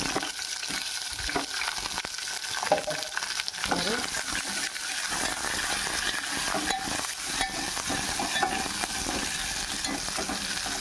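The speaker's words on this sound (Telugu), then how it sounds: "పచ్చిమిరకాయలు, టమాటా కోసాం కదా, అది వేసుకొని బాగా దోరగా ఫ్రై చేసుకుందాం." Green chilies and tomatoes fry in a pan with a steady, close sizzle, punctuated early on by spatula scrapes and stirring clatter before it settles into a continuous hiss.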